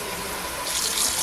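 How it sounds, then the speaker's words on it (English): Tap water runs steadily into a bowl of water and vinegar mixture during kitchen prep, a close, continuous hissing pour that brightens and swells toward the end, with no talking. "Probably add a little bit more water in there."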